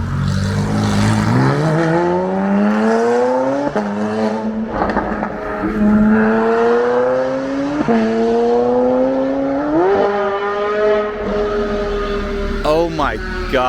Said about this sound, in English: Holy shit, that car sounds insane.